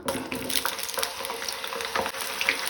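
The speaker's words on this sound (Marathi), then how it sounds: "वांयगी आमकां फ्राय करून घेवपाक जाय" Eggplant (brinjal) frying in hot oil in a pan over a medium gas flame, a close, dense crackling sizzle with small pops and stirring scrapes throughout, no voices.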